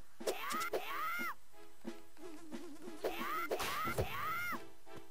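Bees buzzing in the video game Zelda: Phantom Hourglass, short whining buzzes that rise and fall in several bursts with soft thuds between, alone and fairly close.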